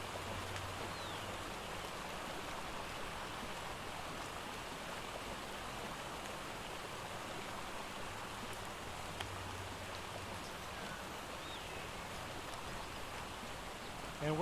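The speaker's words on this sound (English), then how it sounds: "I'm kind of sick of hearing waterfall constantly" A constant rushing wash of falling water by a waterfall in the video game ARK, steady and broadband for the whole stretch, with a faint low hum underneath and no clear talk on top.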